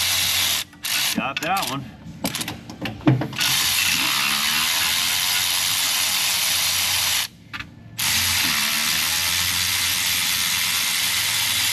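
Ratchet wrench clicking rapidly while tightening bolts on a Chevrolet, loud and close, in bursts broken by brief pauses, with someone speaking briefly over the mechanical ratcheting.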